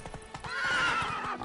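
A horse in Witcher 3: Blood and Wine gallops with quick, close hoofbeats and a loud, sustained whinny rising over the clatter.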